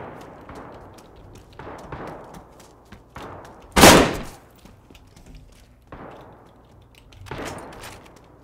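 A single loud, sharp Mosin rifle shot in the video game DayZ cracks out mid-stretch, surrounded by softer scattered thumps and rustles.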